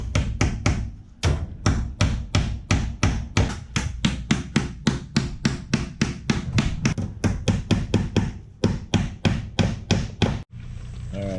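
Rapid, steady hammer taps drive fasteners in while a hose bib is being installed, around thirty sharp knocks in a quick regular rhythm with a brief break near the end, close and clear.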